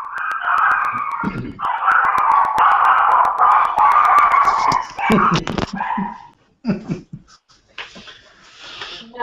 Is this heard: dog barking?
yes